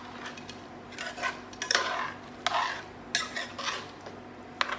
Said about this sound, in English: Now I'm going to add to it 1 entire cup of dark rum. I'm going to give this a stir.